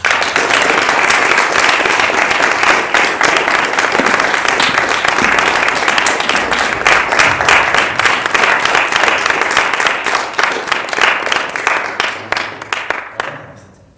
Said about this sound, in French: Tonnerre d'applaudissements pour Nicolas